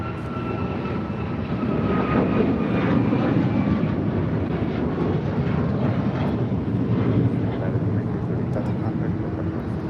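United Airlines Boeing 737 MAX 9 taking off from LAX bound for Houston, a steady loud jet engine roar with broadband rumble and whine, sustained and fairly near throughout with no talk.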